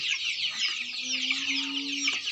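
Desi chickens and chicks clucking and chattering steadily in a flock, a dense continuous murmur of birds close by with no talking.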